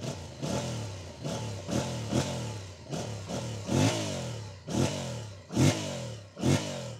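A 2025 Yamaha MT-07 Y-AMT's CP2 parallel-twin engine is revved repeatedly, with about nine sharp blips rising and falling in a steady rhythm, close and loud with no talk.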